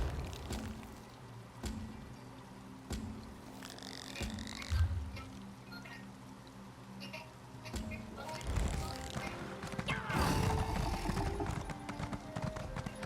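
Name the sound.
summoned horse hooves in video game The Elder Scrolls Online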